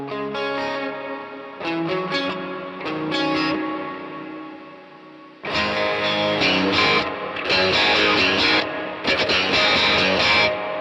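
An electric guitar played through a Quad Cortex with a large modulated reverb rings out in distorted chords and phrases, each swelling into a washy, shimmering tail, with a brief drop-off before a louder second passage.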